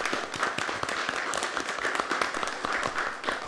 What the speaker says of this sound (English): So I just ask for an applause for every soldier who's here alive.